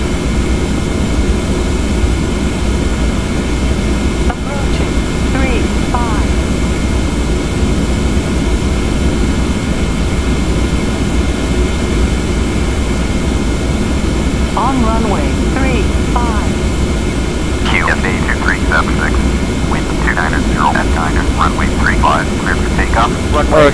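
Qantas 717-200 jet engines spooling up in a flight simulator, a steady loud roar and whine holding through the clip, with a person talking over it throughout.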